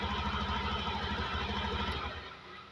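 A Honda Beat motorcycle engine, started by connecting the starter wires directly, runs at a close, pulsing idle with a steady rhythmic chug that fades slightly at the end.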